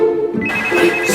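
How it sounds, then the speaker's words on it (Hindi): A telephone rings loudly and close, a brief burst of electronic ringtone tones standing alone. "संजना जी का फोन है।"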